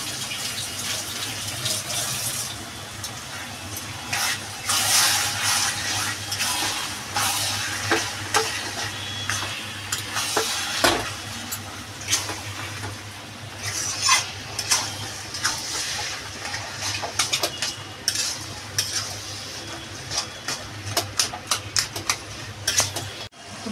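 Bottle gourd and shrimp curry being stirred in a pan after flour is added, with quick scraping strokes and knocks over a continuous sizzle and low hum, close and busy throughout.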